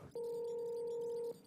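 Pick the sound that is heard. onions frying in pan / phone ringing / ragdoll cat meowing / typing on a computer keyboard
phone ringing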